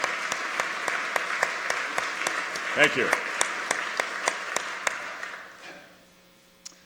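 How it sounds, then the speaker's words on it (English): Audience applause rings out at the 2017 Illinois State of the State address, with rhythmic, regular claps in a large hall that fade away near the end as a voice briefly speaks. "Let's give him a round of applause for his service"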